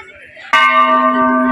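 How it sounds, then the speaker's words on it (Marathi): A metal bell is struck once at the Bhuleshwar temple, giving a sudden bright clang that leaves a long ringing hum, after quiet crowd murmur. "भाऊनी बेल वाजवलेले आहे"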